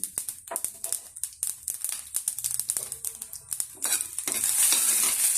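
Mustard seeds, urad dal and a chili hit hot coconut oil for a Kerala curry, sharp popping and crackling in quick irregular bursts that build into a louder steady sizzle toward the end.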